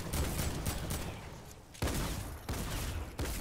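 Weapon fire in a Fortnite zombie game mode comes as dense volleys of rapid shots with sharp attacks, broken by a few brief pauses and then resuming in fresh bursts.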